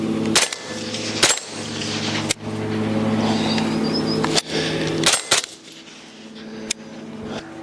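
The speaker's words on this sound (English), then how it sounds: "This will be the first shots through the can, so you'll be hearing it with me for the first time." Suppressed 5.56 rifle shots fired through a Griffin Recce 5K silencer outdoors: about six sharp, close reports spaced irregularly, each with a short tail, over steady low background hum, with no talking.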